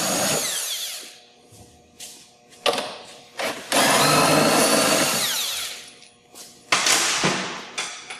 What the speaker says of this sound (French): On va enlever les deux boulons.